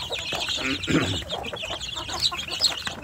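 Free-range village chicks without their mother clucking and peeping close by, busy overlapping calls with some rustling throughout.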